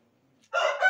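An Indian game rooster in a coop crows once, loud and close, starting abruptly after a near-silent lead-in and continuing to the end.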